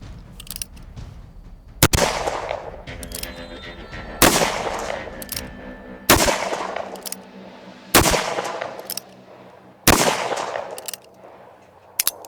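Revolver shots from a Ruger Blackhawk and a Pietta Great Western II in an Old West setting: six loud, sharp reports spaced about two seconds apart, each followed by a ringing decay, with no talk.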